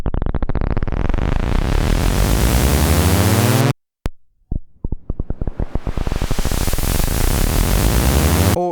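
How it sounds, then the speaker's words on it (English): A white noise sample plays on an Elektron Digitakt with an LFO sweeping its filter, giving a loud, harsh hiss that rises and pulses in rhythm, cuts out briefly mid-way, then returns in repeating filtered sweeps. "I'm going to load up a white noise sample, and instead of assigning the LFO to the pitch, I'll assign it to the filter"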